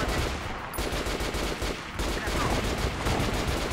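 Rapid bursts of gunfire from military-grade ammo in Metro Last Light, loud and continuous with brief gaps, a dense automatic-weapon clatter filling the whole stretch.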